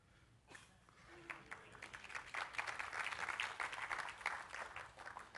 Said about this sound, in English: I am not above cheap applause.